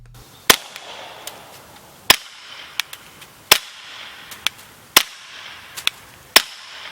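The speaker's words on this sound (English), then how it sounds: "The Liberty Infiniti can also be shot either dry or wet. Here it is shot dry." Suppressed 9mm pistol shots fired dry through a Liberty Infiniti titanium suppressor, five sharp cracks spaced about 1.5 seconds apart, each followed by fainter clicks and rattles, with no talking.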